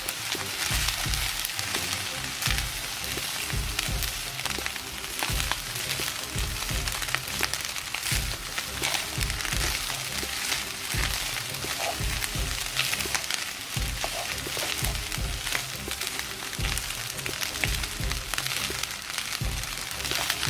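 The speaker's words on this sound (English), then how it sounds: "Now I'm stirring away." Sweet and sour chicken frying in a pan as soy sauce and oyster sauce are stirred in, giving a steady, close sizzle broken by frequent crackles and scraping stirs.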